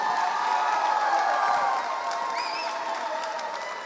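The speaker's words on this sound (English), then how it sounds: "Give him a huge round of applause, Bill DeWitt III." Audience applause and cheering fill a hall for the president of the Cardinals baseball club at a Hot Stove live event, a dense steady clapping wash with a few whoops, tapering slightly toward the end.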